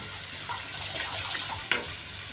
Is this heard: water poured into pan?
yes